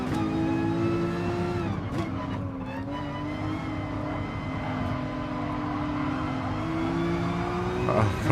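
Race cars at Monza in GT Sport, a loud steady engine drone from the player's car with pitch shifting as it accelerates and brakes, other cars close by, and brief tire squeal.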